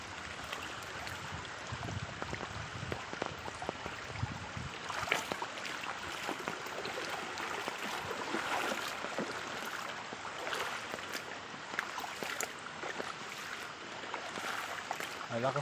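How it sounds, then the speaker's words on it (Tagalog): Strong water rushing through a rural creek after rain, a steady broadband gush with gurgles close by, while someone talks now and then over the flow. "Malakas na yung tubig."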